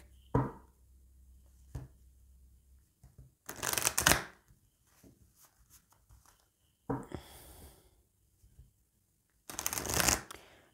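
Oracle cards for a tarot-style reading are shuffled by hand in several brisk riffling bursts separated by pauses, close up and with no talking.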